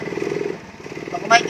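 A Honda Mio i 125s scooter engine, running after error 42 and 46 troubleshooting, idles with a steady close putter, dips briefly midway and then picks up again, with a short higher burst near the end.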